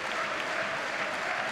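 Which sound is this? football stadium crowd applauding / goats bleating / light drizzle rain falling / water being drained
football stadium crowd applauding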